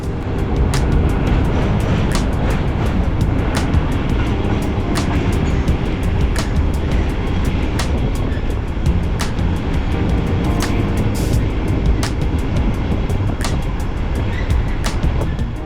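A Nightjet sleeper train rolls across the Hohenzollernbrücke railway bridge over the Rhine in Cologne, heard from inside as a steady, loud low rumble with a rapid series of sharp clacks and rattles.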